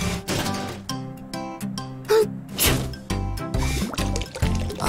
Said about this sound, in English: Let's oil the engine first.